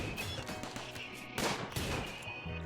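Dense RimWorld turret gunfire in a video game, a continuous clatter of rapid shots with a louder burst midway, steady and close throughout.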